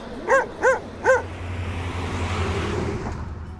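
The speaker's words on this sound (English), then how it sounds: "Oh look, a Labrador." A Labrador barks three times in quick, evenly spaced woofs close by, then falls quiet over a low background hum.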